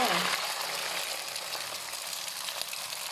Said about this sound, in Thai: น้ำมันเดือดแล้วค่ะ เอาไข่เจียวลงเลยค่ะ